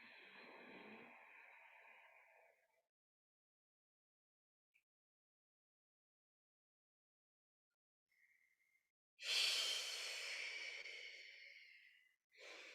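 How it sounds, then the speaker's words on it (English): Deep, slow breathing during a gentle yoga session: a long, close exhale, then a quiet pause, then a louder sighing breath, with a short intake at the very end. "Breathing deeply here."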